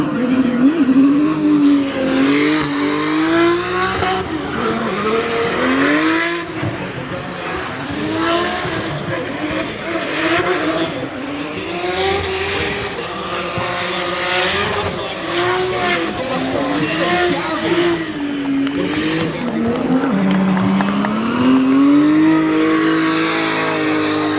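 Drift cars at Mondello Park in Ireland race with high engines that rise and fall and tires squealing through the slides. The roar is loud and unbroken and includes long skids.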